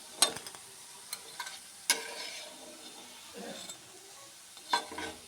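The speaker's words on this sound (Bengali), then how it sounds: "ভেজে নামিয়ে নিচ্ছি" Pakoras frying in oil are turned and lifted out. A soft sizzle sits low beneath scattered, fairly faint clinks and scrapes of a spatula against the pan.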